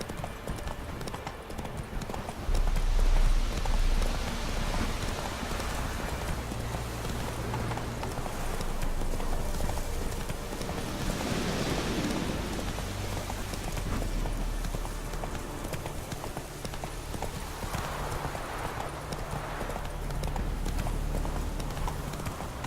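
Roach, a horse in The Witcher 3: Wild Hunt, galloping with steady rhythmic hoofbeats over ground, close and continuous, with rain falling in the background.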